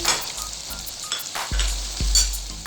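Whole red chillies dropped into hot oil for a chicken white qorma, giving a bright, crackling sizzle with a few sharp pops and light pan knocks, close and steady throughout.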